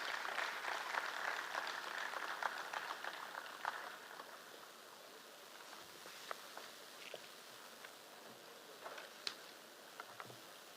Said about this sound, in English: huge round of applause for the winners